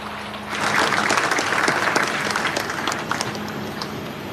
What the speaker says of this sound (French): L'on peut applaudir, Mesdames et Messieurs.